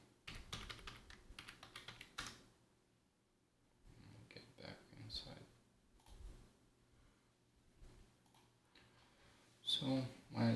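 A password is typed on a computer keyboard while setting up an Active Directory home lab, a close, quiet run of keystroke taps in uneven bursts with soft talk between.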